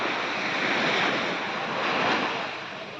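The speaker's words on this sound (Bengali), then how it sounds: "একটু পরপর বহুদূর থেকে শোনা যায় সাগরের গর্জন।" Surf on Havelock beach in the Andamans makes a dense, unbroken roar of breaking waves that fades slightly near the end, with wind rushing across the microphone.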